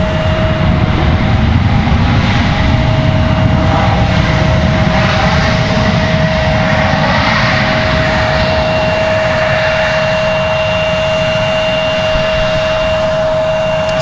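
Steady jet engine roar from PSA Airlines aircraft at Raleigh-Durham International Airport, a continuous broadband rumble with a faint tonal whine held at an even distance throughout, no voices.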